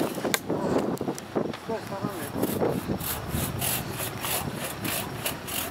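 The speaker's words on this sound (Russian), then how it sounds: "Вот мы тут с братьями пилим." Hand saw cutting through a tree branch by a camp pond, repeated rasping strokes in a steady back-and-forth rhythm, close and fairly loud, with voices talking over the sawing.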